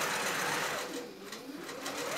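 Quilting sewing machine running a Grace QCT5 Pro computerized stitch pattern through quilt batting, giving a steady, close, continuous mechanical whir with a brief slowdown midway and no voices.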